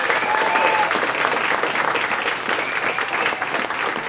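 Audience applauding at a fourth-anniversary party award presentation, a dense sustained burst of clapping from a room full of people, loud and close throughout.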